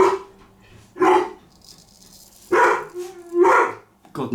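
A dog barks in several loud, close bursts while playing with another dog, with short pauses between the barks.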